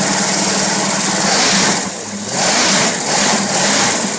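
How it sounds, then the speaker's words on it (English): A used AMC 360 V8 on a test run idles loudly and steadily, then gets a couple of short revs that swell and fall back, heard close with no talking. "So I'll give it a couple of little revs here and there."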